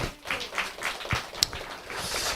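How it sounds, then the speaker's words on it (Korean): Applause from a church congregation at a Sunday worship service, welcoming a new pastor; a brief burst of scattered clapping with irregular hand claps, moderately near, with no talk over it. "우리 박수를 한번 하겠습니다"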